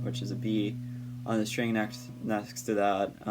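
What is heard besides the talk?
None of the usual background noises is heard.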